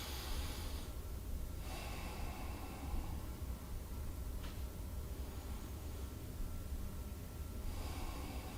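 Slow breathing during a seated forward hinge stretch in a desk exercise routine: a few soft, airy breaths spaced seconds apart over a steady background hiss.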